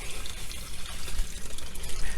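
Dry vermiculite pours steadily into a potting soil mixture with a continuous close, rushing granular hiss.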